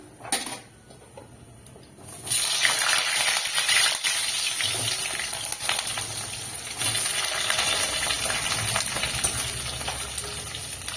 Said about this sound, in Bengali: এবার আমি এতে আলু দিয়ে দিচ্ছি।